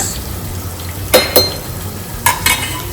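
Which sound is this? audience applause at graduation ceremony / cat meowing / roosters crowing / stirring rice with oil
stirring rice with oil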